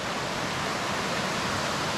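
Green Cove Creek on the Virginia Creeper Trail in Southwest Virginia, running strong after overnight rain, gives a steady, close rush of flowing water with no breaks.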